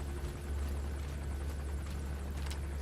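A helicopter in Metal Gear Solid V throbs close by, a loud, steady rotor drone with low pulsing that holds for about three seconds, alone with no voices.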